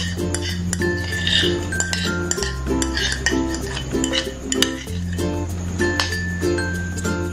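Mashed banana mixed with sweetened condensed milk and oil being stirred in a bowl, a spoon or spatula scraping and clinking rhythmically against the sides, close and clear with occasional brighter metallic taps.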